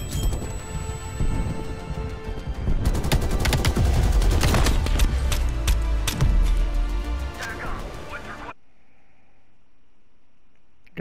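AK-74 gunfire in Call of Duty Black Ops Cold War, dense rapid bursts of automatic shots with loud crackling impacts, stopping abruptly near the end and leaving near silence.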